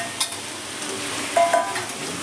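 Potatoes frying in a thick tomato masala for garlic aloo dum give a soft, continuous sizzle, with a couple of sharper clinks and scrapes from stirring. No one speaks.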